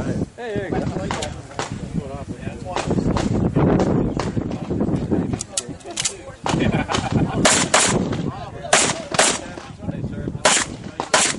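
Gunfire at the Coastal Bend Challenge 2011 shooting match: a rapid, irregular series of loud, sharp shots fired close by, with people talking between the shots.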